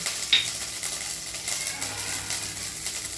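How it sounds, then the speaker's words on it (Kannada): Butter melting and frying in a pan for palak paneer, a steady soft sizzle and crackle that holds throughout at close range, with one brief metallic clink near the start and no talking. "ಇವತ್ತು ಬೆಣ್ಣೆ ಮಾಡಿ ಅಂತೇಳಿ ಬೆಣ್ಣೆ ಒಳಗೆ ಕರಿಯಾಕತ್ತೀನಿ ರೀ"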